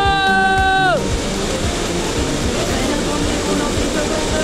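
Water crashes at the Tchitchalala waterfalls as a steady, full rushing roar. A voice calls out loudly over it in the first second.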